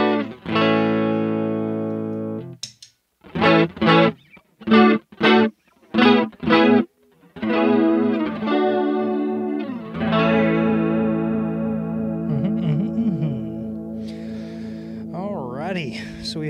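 Electric guitar played through a NUX CH-3 chorus pedal, with sustained chords, a burst of short staccato strums, then ringing chords and single-note lines shimmering with a wavering chorus effect, loud and close.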